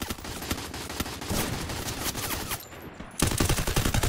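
Rapid gunfire in the battle royale game Garena Free Fire during a competitive custom match, dense bursts of shots crackling continuously and loud throughout, with a brief dip before a fresh volley.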